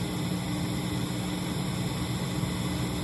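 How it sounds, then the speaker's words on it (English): Steady low electrical hum from equipment powered at 60 hertz, sitting beneath a constant broadband hiss throughout, with no talking. "Back to 60 hertz and you can hear the frequency hum from the hiss."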